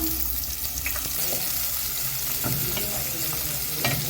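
A big spoonful of ghee sizzles steadily around onion half-rings and vegetables in a hot pan, a loud, close, continuous frying hiss broken by a few stirring scrapes.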